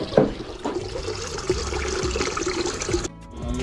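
Water poured into a pot to boil in a home kitchen, a continuous close splashing and gurgling stream that cuts off near the end, followed by quieter room sound.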